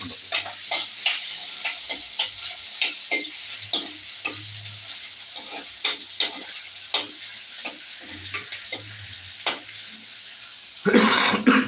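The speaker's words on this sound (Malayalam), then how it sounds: "പിന്നെ നമുക്ക് ജസ്റ്റ് ഒന്ന് തന്നെ ഇളക്കി കൊടുക്കളയാം" Garlic, ginger and chilli stirred in a clay pot, with a steady run of light scraping strokes over a soft sizzle, ending in a louder burst of noise.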